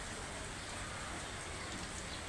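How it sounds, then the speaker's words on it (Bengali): Heavy rain pours over Chittagong city, a faint but unbroken hiss of falling water heard from a distance, steady throughout without any talking. "চট্টগ্রাম শহরে প্রচুর পরিমাণ বৃষ্টি হচ্ছে"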